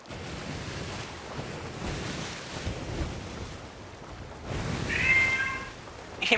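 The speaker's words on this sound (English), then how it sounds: "You hear my cat?" Pet cat giving a short meow near the end, faint against steady wind and surf noise from a seafaring game playing in the background.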